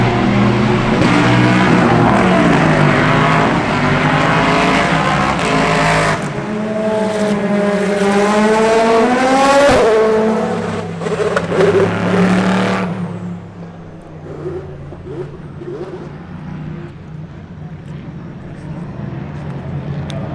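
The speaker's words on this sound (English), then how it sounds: "So all the cars have been going past slower than normal, so you get a real good look at them" Race cars at Le Mans at night rolling past slowly behind a safety car: a steady engine roar with rising and falling pitch sweeps as cars pass, then a duller, fading rumble, with crowd noise and voices around.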